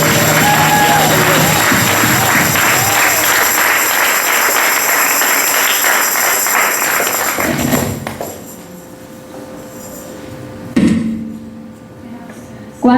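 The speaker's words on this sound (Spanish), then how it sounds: "a darle un fuerte aplauso a este rey." Congregation applause at a Sunday church service, steady loud clapping and crowd noise for about eight seconds before fading into quieter room sound with a few thumps.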